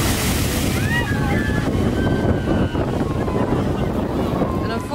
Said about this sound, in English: the one and only drop on this ride, and it has quite an impressive splash